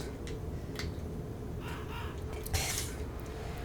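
Several short harsh crow-like caws come in quick bursts from birds on the Thames Wharf level of Tomb Raider 3 Remastered, heard over a low steady background.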